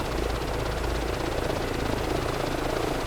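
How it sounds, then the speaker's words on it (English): A helicopter flies in the Microsoft Flight Simulator 2024 video game, giving a steady, dense rotor roar with a rapid chopping beat that holds at a constant level throughout, with no talk over it. "And the chopper skills aren't the best, but I really do like the chopper"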